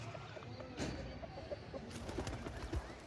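Soft, low cooing and clucking pigeon calls in short bursts, with a few wing flaps and rustles in a quiet outdoor village setting in Abbottabad.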